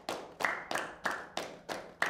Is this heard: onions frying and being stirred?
no